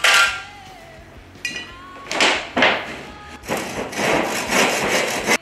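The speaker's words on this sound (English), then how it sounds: "I'm going to saw this in half" A handsaw cuts through a piece of wood to make a one-string diddley bow, heard as rasping bursts of broadband stroke noise, with several strokes close to the microphone and brief pauses between them.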